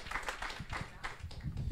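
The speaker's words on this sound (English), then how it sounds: "I just want to give a huge round of applause to everyone on the stage" A conference audience applauds a panel on stage at a leadership summit, a faint, loose patter of clapping with a few people clapping near the mic.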